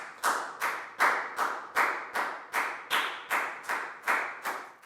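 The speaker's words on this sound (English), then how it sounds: "And a big round of applause for everybody doing a great job." A primary school maths class claps in a slow, regular rhythm, around eleven crisp claps in five seconds, near and clear with no voices.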